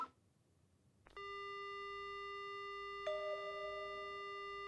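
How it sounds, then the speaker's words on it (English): A phone in the horror game Death Mark starts with a sustained electronic tone that steps up to a second held tone, quiet and steady with no talking. "The phone begins to ring."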